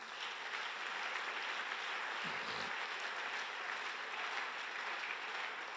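Congregation in a church service applauding in acclamation, a steady broadband wash of clapping filling the space throughout, dense and even with no pauses.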